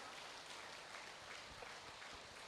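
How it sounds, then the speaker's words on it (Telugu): An outdoor rally audience claps continuously to welcome a guest onto the stage, a faint, even wash of distant applause with no clear breaks. "Big claps."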